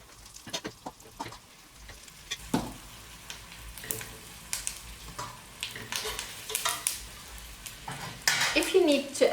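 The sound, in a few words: oxtail meat added to hot oil in a pot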